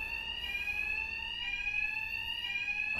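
An electronic alarm blares without pause inside a building in Batman: Arkham Knight, a piercing, steady high-pitched tone held for the whole stretch, loud and close with no voices over it.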